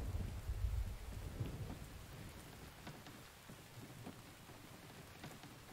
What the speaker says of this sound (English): Okay, Rain, go away.